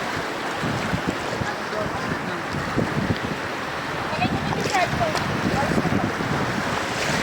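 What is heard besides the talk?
ocean waves on a sandy beach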